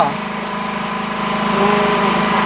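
A small engine hums and buzzes steadily up close, a continuous droning whir that swells slightly toward the end.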